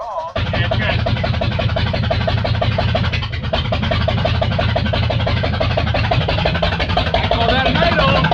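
A freshly installed engine idles in a 1965 Jeep Wagoneer just after starting on starting fluid, producing a loud, steady, continuous rumble close by, with no pauses.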